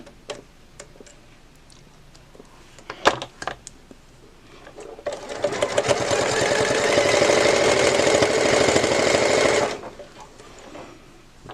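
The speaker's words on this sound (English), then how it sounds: "We keep on sewing." A sewing machine stitches quilting Cuddle fabric for a patchwork bow, running in one steady, loud whirring burst of about five seconds after a few quiet clicks and ticks.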